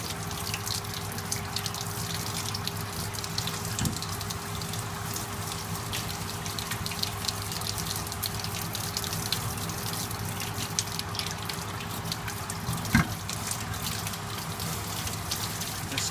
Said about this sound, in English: This is called wet sieving.